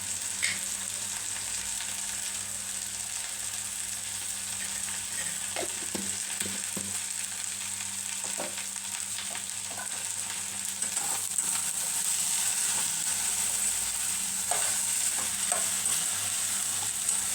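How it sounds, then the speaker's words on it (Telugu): Bitter gourd curry being stirred in a pan after turmeric goes in, with a steady low sizzle of frying and scattered soft scraping stir strokes, no one talking. "పసుపు వేసిన తర్వాత కొంచెం కలుపుకోవాలన్నమాట"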